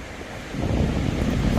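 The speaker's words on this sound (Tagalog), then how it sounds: "dito na kami ngayon sa Napier dito sa may Marine Parade Tingnan yung beach oh" Ocean surf washes onto the beach at Marine Parade in Napier, New Zealand, a broad roar that grows louder partway through, mixed with gusty wind buffeting the microphone.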